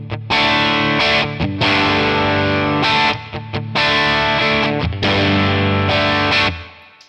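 Electric guitar run through a Two Rock OD100 crunch tone model on Tonex, bursts of driven chords with brief gaps, loud and close, fading out at the end.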